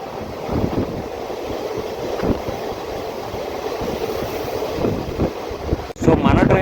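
A passenger train rumbles steadily as heard from inside a general coach on the Rayagada to Koraput line, a broad windy roar with rhythmic clatter that swells into a louder burst near the end.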